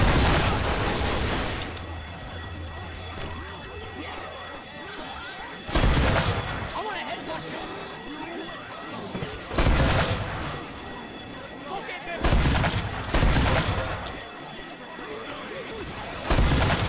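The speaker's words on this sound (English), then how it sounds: "Got a grenade launcher." Grenade launcher blasts in Left 4 Dead 2, several loud explosive booms spaced a few seconds apart over constant game noise and clatter.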